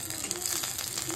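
Radhuni and cumin seeds sizzle quietly in hot oil as a tempering, a soft, continuous crackle with no talk over it.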